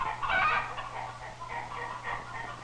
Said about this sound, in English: Grandfather keeps a large flock of chickens.